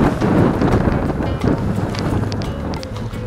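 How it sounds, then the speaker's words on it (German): Strong wind buffets the microphone in a loud, continuous roar while sailing into a force 5 headwind around Usedom, with water rushing and splashing underneath. "Wind gegen an mit 5 Windstärken."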